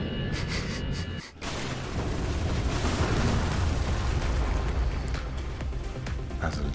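Bomb explosion in the VR video game Megaton Rainfall on PS4 Pro, a dense sustained rumbling roar with debris-like crackle that swells and continues for several seconds after a brief dip, loud and dominant.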